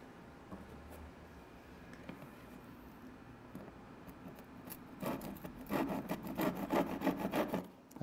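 A handsaw cuts through recycled wood in a carpentry workshop, starting with faint scattered scrapes and then building into a quick, rhythmic rasp of close back-and-forth strokes near the end.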